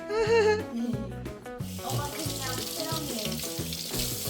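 A kitchen tap runs as someone washes their hands at home, a steady splashing rush of water that follows a stretch of music and continues under it.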